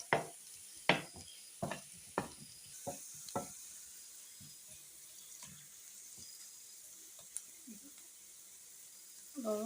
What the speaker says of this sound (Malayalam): എല്ലാം നന്നായിട്ട് ഒന്ന് ഇളക്കി ഒരു ബ്രൗൺ കളർ ആകുന്നിടം വരെ ഇളക്കി കൊടുക്കണം.